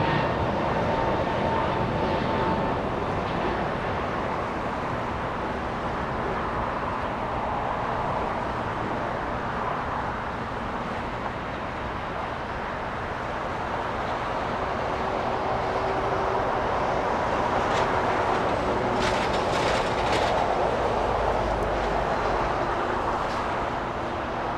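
Boeing 747 jets taxiing at LAX, a steady broad jet-engine roar that holds at constant loudness throughout, distant and continuous with faint higher whine toward the end.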